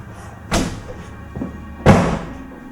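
A door moving shut by itself in a quiet, supposedly haunted room, heard as two separate sharp thuds about a second apart with a fainter knock between them, fairly close and with no voices.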